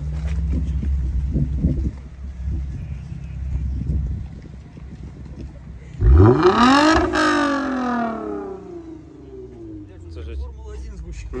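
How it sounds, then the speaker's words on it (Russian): A car with a 3GR engine idles low and rumbling, then its exhaust is revved hard in one rising-and-falling blip before settling back to idle at a tuner car meet, with people chatting nearby. "Дайте еще выхлопа, дайте еще."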